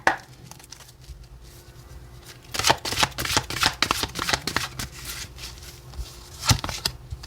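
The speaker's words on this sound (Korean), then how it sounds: "테마 카드를 3장 뽑아볼게요." Tarot cards being shuffled and drawn during a weekly reading, a run of crisp riffling snaps and slaps close to the mic, sparse at first and then busy with several sharp bursts, with no talking.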